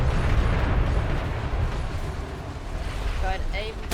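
A ship's cannon volley in the naval game DarksideRP: a loud, rumbling roar of massed gunfire that slowly fades into a washing boom, with voices calling out near the end.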